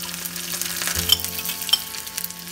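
Garlic added to hot mustard oil with cumin seeds over a medium flame, a steady close sizzle and crackle of frying with a couple of faint clinks, no talking.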